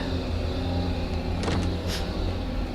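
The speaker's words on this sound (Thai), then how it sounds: "เสียงรถ" A car engine in the game Grim Soul hums steadily nearby, with a brief louder surge of movement midway before settling back to a low rumble.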